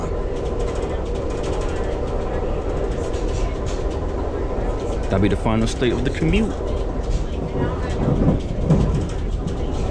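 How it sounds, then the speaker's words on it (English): Amtrak train number 59, on the Chicago to New Orleans route, rumbles steadily and loudly throughout while someone talks briefly partway through. "this number 59 Amtrak train"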